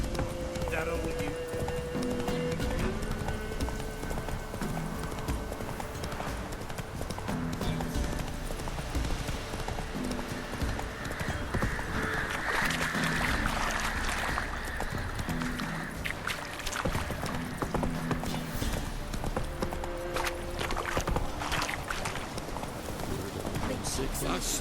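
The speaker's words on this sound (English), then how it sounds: "Whoa there, Roach." Roach, the horse in The Witcher 3: Wild Hunt, gallops with a rapid, steady clip-clop of hooves that runs the whole way through, mixed with game ambience and spoken dialogue.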